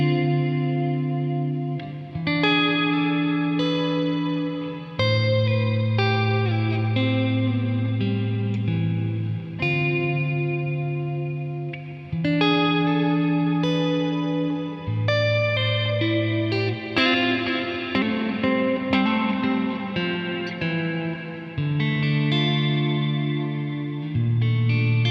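An electric guitar through a Boss RV-6 reverb pedal plays sustained chords and melodic lines drenched in lush reverb and shimmering echo, notes blooming and trailing off into long washes.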